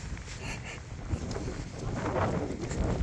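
Strong wind roars across an exposed mountain savanna on Mount Merbabu in thick fog, buffeting the microphone in a steady, dense rush with gusts that rise and fall.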